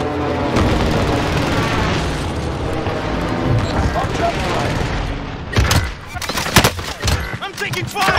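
Video game gunfire erupts in heavy bursts and booming volleys, close and loud, with people talking over much of the action.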